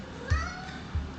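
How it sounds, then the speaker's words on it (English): A male house cat meows twice, each call short and fairly quiet, spaced about half a second apart over a soft background hum. "That's my cat, if you guys can hear him."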